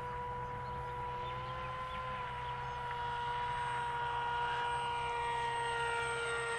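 Propeller motor of a Teksumo flying-wing drone in flight, a steady whining hum with slight pitch changes as the throttle adjusts, continuous and fairly close.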